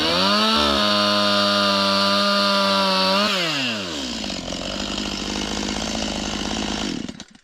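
A chainsaw cuts spruce firewood outdoors, loud and close, first holding a steady high whine, then dropping in pitch as the chain bites into the wood, with a ragged cutting roar until it cuts out.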